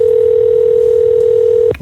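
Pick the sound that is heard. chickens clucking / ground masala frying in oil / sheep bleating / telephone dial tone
telephone dial tone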